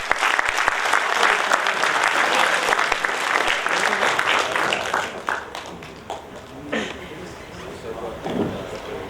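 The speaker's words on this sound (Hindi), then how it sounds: "श्री भाविन भाई के लिए एक बार फिर से जोरदार तालियां।" An audience at a Hindi poetry recital (kavi sammelan) applauds a poet, the dense clapping loud and sustained for most of the clip before thinning into scattered claps near the end.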